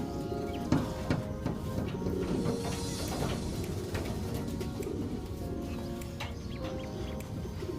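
Soft repeated cooing from a small bird over a steady hum of background noise, low and fairly close, without speech.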